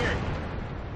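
A tank shell slams into the track of a Bat Chat tank in the World of Tanks video game, a single loud, close booming impact that fills the whole second.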